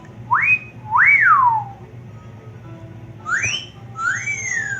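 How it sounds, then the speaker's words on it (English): Four rising-and-falling wolf whistles in two pairs, the first pair close together, then a pause before the second, clear against a low steady hum. "Yeah, wolf whistles,"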